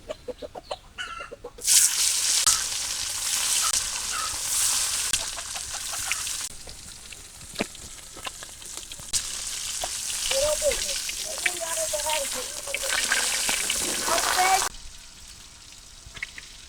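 Loud sizzling of fish frying in hot oil crackles for several seconds, then settles to a softer fry while a person talks over it.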